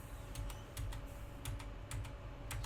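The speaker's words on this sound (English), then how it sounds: "that is easily fixed by pressing the Enter key on the right side of your keyboard" Keystrokes on a computer keyboard, with the Enter key among them, sound as a run of crisp, close clicks in small irregular clusters over a steady low background hum. No one speaks.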